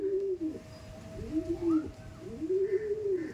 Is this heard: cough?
no